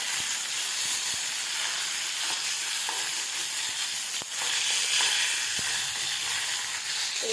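Curry leaves frying in hot oil for a tomato chutney give a steady, bright sizzle and hiss throughout, broken by a few sharp pops and crackles, close and loud with no talking.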